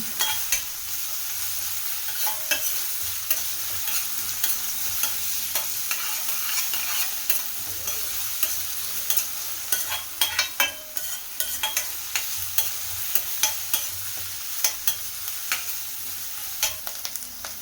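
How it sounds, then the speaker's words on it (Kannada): Beans frying in a pan for pasta, along with capsicum, give a loud continuous sizzle under repeated scraping stir strokes that go on throughout, up close and with no voices. "ನಂತರ ಬೀನ್ಸ್ ಹಾಕೊಳ್ತಾ ಇದ್ದೀನಿ ಹಾಕ್ಕೊಂಡು ಒಂದೆರಡು ನಿಮಿಷ ನೋಡಿ ಈ ರೀತಿ ಚೆನ್ನಾಗಿ ಫ್ರೈ ಮಾಡ್ಕೊಳ್ತೀನಿ"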